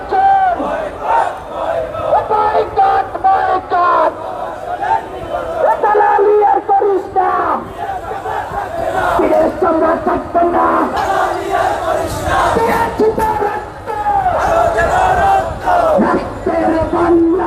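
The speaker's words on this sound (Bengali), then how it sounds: "সারি সারি মানুষ কিন্তু তারা হেঁটে যাচ্ছেন এবং তারা বিভিন্ন স্লোগান দিচ্ছেন" A protest march crowd shouts slogans in unison, loud rhythmic chanting from many voices that rises and falls in waves across the whole stretch.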